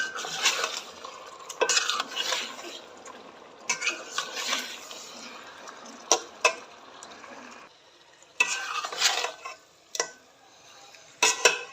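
Chicken masala with red chili powder, cumin, dried coriander and turmeric is stirred and fried in a pan, with repeated bursts of scraping and utensil clatter separated by short quieter gaps and a faint sizzle.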